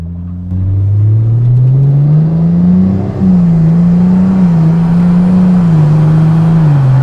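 A loud 2JZ engine in an S15 Silvia with a swapped 8HP70 automatic revs up and climbs through the gears, its rising drone briefly dipping at a shift before roaring on steadily.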